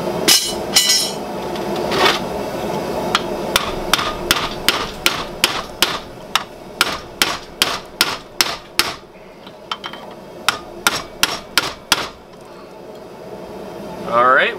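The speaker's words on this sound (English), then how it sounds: "So I moved over here to my bench vise to continue drifting that hole out." A hammer strikes a drift through a hot steel bottle opener clamped in a bench vise, giving a long series of sharp, evenly spaced metallic blows, loud and close, with brief speech at the start.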